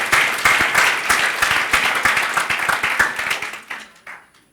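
Applause from an audience at an evening event: brisk, dense clapping with sharp individual claps, loud and close, thinning out and fading away over the final second.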